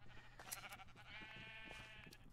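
Sheep in Minecraft bleat in short, faint calls over a quiet background hum, with several bleats overlapping across a couple of seconds.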